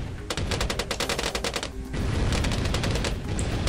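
A Dartling gun tower in Bloons TD Battles fires a rapid stream of evenly spaced shots, like machine-gun fire, that gives way to a denser, continuous burst. It is loud and close, with no talking.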